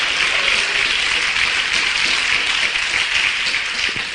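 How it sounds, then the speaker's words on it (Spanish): Sustained, full applause from a congregation in a church fills the space evenly, many hands clapping together at a steady loud level without a break, no voices standing out. "Denle un fuerte aplauso a Jesús."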